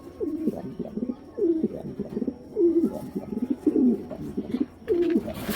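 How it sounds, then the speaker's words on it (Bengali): A large racer pigeon in a cage cooing close by, a series of repeated throaty coos in rising and falling bursts with brief pauses between them. "এটা বিশাল বড় কবুতর, পুরো খাঁচা ভেঙে ফেলার মতো অবস্থা"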